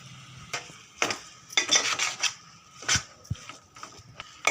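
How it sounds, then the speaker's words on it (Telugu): Fish mixture being stirred and fried in an oil-filled pan, with irregular scraping and clinking strokes of a spoon against the pan over a faint background sizzle, close and moderately loud. "అడుగంటకుండా ఇలా కలుపుకుంటూ ఉండాలి"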